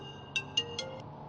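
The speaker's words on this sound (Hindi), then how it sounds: "आनंदी, ईशान का फोन आ रहा है, स्पीकर पर लगाना।" A phone ringtone chirps faintly, four short high-pitched electronic beeps in quick succession over a quiet background hum.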